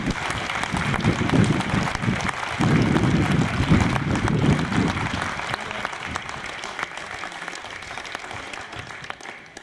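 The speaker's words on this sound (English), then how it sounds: "I'd like to do a quick round of applause for every single player on the pitch" Crowd applause for the players on a football pitch at an awards event, loud sustained clapping with some cheering that stays steady before slowly easing off.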